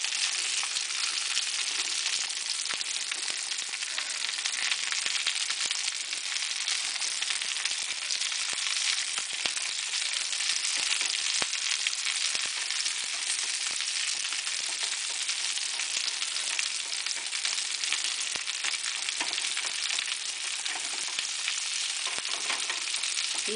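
Swedish meatballs crowded together in a pan sizzle and fry in a steady, even hiss that runs on without pause, close and fairly loud.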